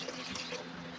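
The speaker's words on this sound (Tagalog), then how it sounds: "pwede na po natin lagyan ng 3½ cups po ng tubig" Water is poured into a cooking pot holding beef tendon for beef pares, a steady close splashing and trickling stream that lasts the full second with no talk over it.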